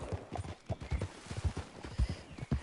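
Galloping horse hooves in Red Dead Redemption 2, a steady rapid clip-clop rhythm of hoofbeats close up, with a faint whinny and no speech.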